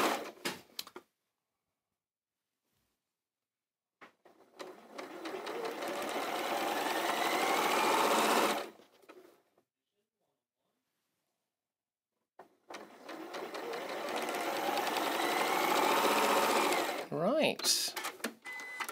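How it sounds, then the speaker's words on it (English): A sewing machine stitches a quarter-inch seam down the side of a quilt block, running in two long steady bursts separated by a few seconds of quiet; the motor hum is close and moderately loud. "all I'm doing now is sewing a 1/4 of an inch seam right down the side of this"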